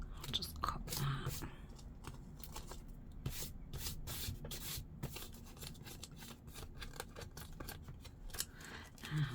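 Scissors snip material while making a hardback botanical journal, a quick run of close, crisp cuts coming in irregular clusters over faint background noise.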